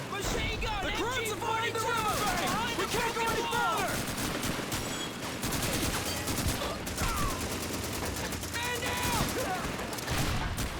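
Sustained machine gun and rifle fire from a Call of Duty 2 World War II battle, dense overlapping bursts and battlefield noise filling the whole stretch with little pause, with a voice talking over it.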